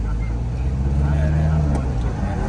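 A Mitsubishi Strada 2500 pickup pulls hard in second gear, a loud, steady diesel drone heard from inside the cab under a voice.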